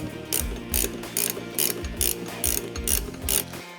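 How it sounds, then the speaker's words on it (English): Hand ratchet snugging nuts onto a tow hook lightbar mount, a close run of regular clicking strokes, about eight in a row, with no talk. "Start your nuts and then snug them up."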